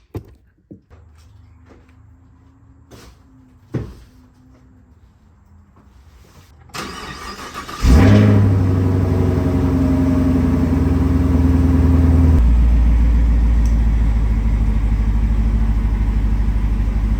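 A 2021 Camaro SS 1LE, rebuilt after a wreck, cranks and fires into a loud idle after a few faint clicks and thumps, then holds a steady, deep rumble close by as it pulls out.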